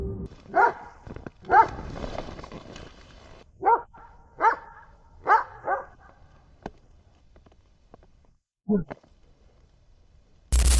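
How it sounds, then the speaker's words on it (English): A dog barks in short, sharp bursts in a forest, several loud, aggressive barks in an irregular rhythm with brief pauses, close by and with no talking. "As the barking grows more aggressive"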